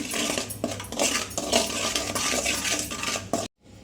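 Asafoetida, chilli powder and salt being stirred into oil in a pan with a metal spoon, a steady busy run of scraping and clinking close by for several seconds before stopping abruptly, no talking.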